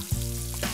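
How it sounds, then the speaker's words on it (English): Cumin hits hot olive oil in a pan and sizzles at once, a short, close, steady hiss under a crackle lasting under a second. "Into the oil, a little bit of cumin"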